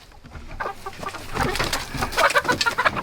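Chickens settling into their coop for the night make steady, overlapping clucks and soft squawks nearby, growing busier toward the end.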